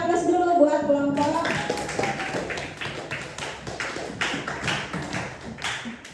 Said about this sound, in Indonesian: silakan beri aplaus dulu buat kelompok